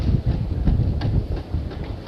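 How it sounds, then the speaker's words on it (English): Wind gusts buffet the microphone outdoors at a waterfront shopping area in Portsmouth, giving a steady low rumble that surges and dips over a couple of seconds, with no talking. "it's quite windy"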